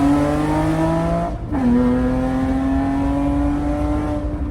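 An Acura TL with a catless straight-pipe exhaust holds a loud, steady engine drone close by, dipping briefly between revs before settling back into a sustained rev.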